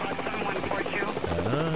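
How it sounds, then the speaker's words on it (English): Two-bladed helicopter in the game Helicopter Simulator 2014 spooling up to lift off, a buzzing rotor drone with a rising engine whine, heard under someone talking over it. "This helicopter's only got two blades. You can now lift in the air by increasing the collective by holding W."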